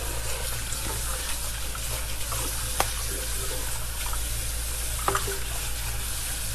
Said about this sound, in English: Give my pot a very quick rinse here.